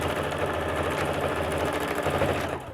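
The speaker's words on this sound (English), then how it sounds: "so we're going to do a few extra back stitches" A sewing machine back-stitches fabric dungaree straps, its needle chattering in a fast, steady mechanical rhythm, close and continuous before easing off at the end.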